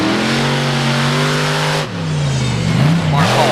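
A big-block XDP diesel racing truck at a monster truck racing event roars loud and steady, its engine pitch holding high then dipping and climbing again as it revs, with an announcer talking over it throughout.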